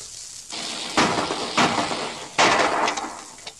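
Gunshots fired together in a radio drama, several loud cracking blasts spaced unevenly over a few seconds, each trailing into a noisy decay, with no talking.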